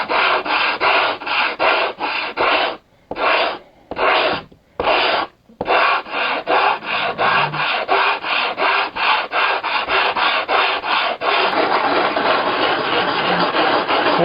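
Hand sanding wood with 80 grit sandpaper while installing a wingtip weight box: loud, rhythmic rasping strokes repeated steadily back and forth, with a few pauses and a continuous scrub toward the end.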